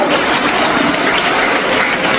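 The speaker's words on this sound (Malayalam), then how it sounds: "നല്ലൊരു ക്ലാപ്പ്" Applause from a crowd: dense, steady clapping that fills the whole stretch at high, even loudness with no pauses or talk.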